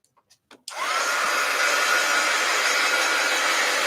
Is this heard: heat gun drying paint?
yes